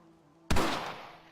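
A single sharp rifle shot in the Red Dead Redemption 2 game, a sudden close blast followed by a short rolling echo that fades within a second.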